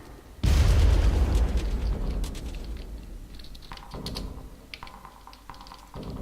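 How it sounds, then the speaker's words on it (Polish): A grenade goes off in the video game Far Cry: a sudden loud, close blast followed by a long rumbling decay, with scattered clicks and smaller game sounds afterward. "dostałem granatem"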